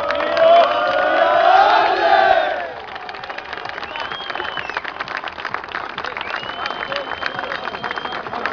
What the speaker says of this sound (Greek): Χειροκροτήστε την κυπελλούχο Ηλίας